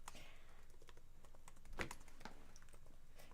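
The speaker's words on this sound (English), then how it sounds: "What are you typing? I'm typing our answers." Someone types on a computer keyboard, a steady patter of soft, quiet keystrokes with one slightly heavier clack partway through, alone without talk.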